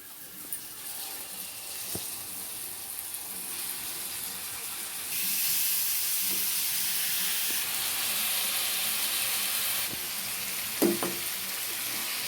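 Korameenu fish pieces fry in a spiced pan, giving a steady close sizzle that swells louder partway through, with a few small taps and scrapes.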